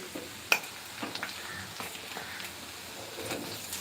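Okra and onion frying in a pan for a Sindhi-style dish, a soft steady sizzle with occasional stirring clinks and scrapes, with no talking.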